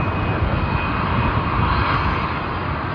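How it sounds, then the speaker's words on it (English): Qantas Boeing 787 jet airliner arriving at Sydney Airport, its engines producing a loud, steady, broadband roar that holds constant throughout with no voices. "we have Qantas's 787 coming in from Melbourne"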